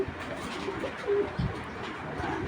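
A marble-eyed male pigeon coos softly nearby, giving a few low, rounded calls against a faint background hum.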